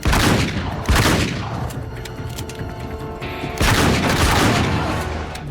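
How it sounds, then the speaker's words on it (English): Shotgun fire in the video game Uncharted 3: loud, blasting bursts near the start and again later, with a busy gunfight rumble between. "Shotgun battle."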